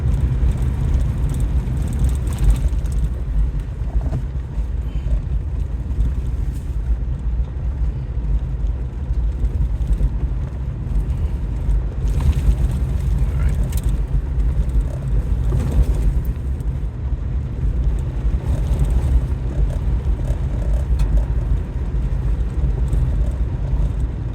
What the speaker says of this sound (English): It's becoming a lot of rocks, so my wheels are sliding.